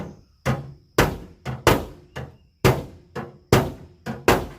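Hammer-and-dolly work on a car body panel, knocking out dents: nine sharp metallic blows land in an uneven rhythm, loud and close, each ringing briefly before the next strike, with no talk.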